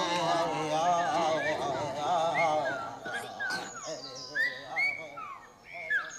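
Silbo Gomero, the whistled language of La Gomera, imitating the whistles of blackbirds: a run of bright, gliding whistled notes, close and fairly loud, over a dense textured background.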